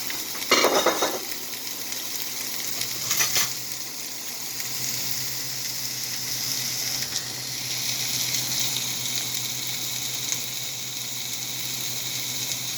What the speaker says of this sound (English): So I'm just going to saute these onions a little bit